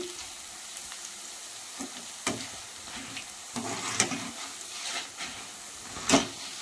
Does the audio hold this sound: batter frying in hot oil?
yes